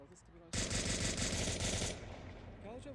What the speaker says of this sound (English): Woods has been shooting this whole time.